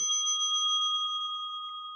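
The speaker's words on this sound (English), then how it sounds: "The last one with the bell is the finishing up time period" A debate timer bell marking the end of speaking time at a city council district debate rings out with one sustained bright metallic tone that holds steady and slowly fades, loud and alone.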